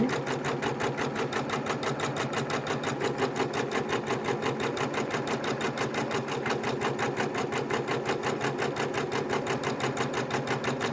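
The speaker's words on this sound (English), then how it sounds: "there it is, stitching right out in plain view like I wanted" Sewing machine running steadily and close by as it stitches a heart appliqué onto an in-hoop quilt block, a fast even mechanical chatter that holds for the whole stretch with no talking.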